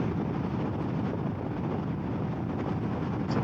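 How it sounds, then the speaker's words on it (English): Steady, loud wind blast buffeting a rider on a Honda CMX 1100T Rebel DCT bagger motorcycle at speed behind a small screen, a continuous broadband roar with no pauses and no talk. "Bit of wind blast"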